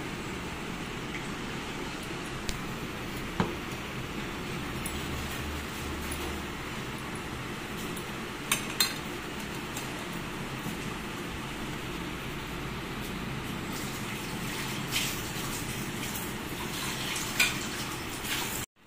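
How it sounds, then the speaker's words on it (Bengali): Whey squeezed from chhena curds is poured away in a home kitchen while chomchom sweets are made, giving a steady soft splashing hiss with occasional small clicks and no talk. "এই যে জলটা আমি এবারে ফেলে দিচ্ছি।"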